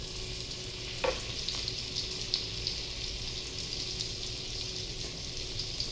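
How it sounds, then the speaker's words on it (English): Garlic frying in a pan as the base for chicken fried rice, a steady close sizzle with a few faint clicks of utensils, no talking. "The first thing I'm going to be putting in is some garlic."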